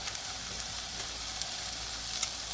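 Spices fry in hot oil in a pan for a suran (yam) and dried-fish vegetable dish, giving a loud, steady, continuous sizzle with no voices.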